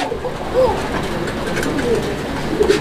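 Fancy pigeons, a colored Rajgolla pair kept for sale, coo in low rolling phrases close by, several calls repeating over a few seconds amid light background murmur.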